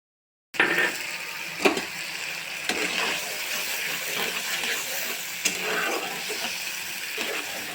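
Tomato puree frying in oil, a soft continuous sizzle with an occasional spoon scrape as it is stirred, faint and close, with no voices.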